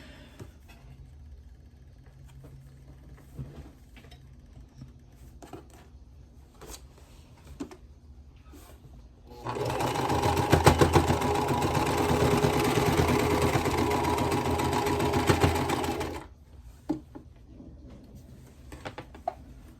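A sewing machine stitching a quilt block runs in one steady whirring burst of about seven seconds, rising from a quiet room and stopping abruptly, with light handling clicks before and after.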